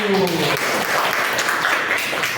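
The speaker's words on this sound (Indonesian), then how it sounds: "Tepuk tangan dulu" Classroom of schoolchildren applauding, a dense, steady patter of many hands clapping for a couple of seconds, with a voice briefly heard at the start.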